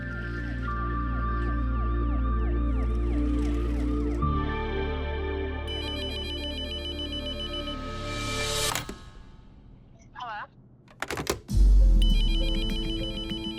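A telephone rings repeatedly inside a bank during a busy day, steady electronic ring tones filling the space, then breaking off into brief clatter and shuffling before resuming louder.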